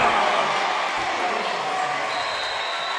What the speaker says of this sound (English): And listen to this crowd and just stay here and watch it for a moment.